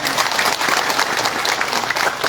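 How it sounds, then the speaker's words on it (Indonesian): Audience applause at an Indonesian social-security outreach event held by a NasDem party figure, a steady, moderately loud wash of many hands clapping without pause. "Tepuk tangan dong"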